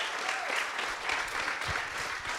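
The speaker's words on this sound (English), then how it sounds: "Round of applause for ESTE" Audience applause for Este Haim at a live talk show taping, a steady dense wash of clapping hands filling the room throughout, with scattered whoops rising over it.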